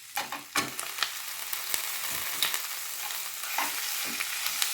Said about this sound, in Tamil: இதே நல்லா கிண்டிக்கிட்டே இருக்கணும்